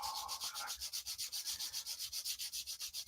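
Rhythmic back-and-forth sanding, a quick even rasp about six strokes per second on a small part for a parade model build, close and quiet with no talk.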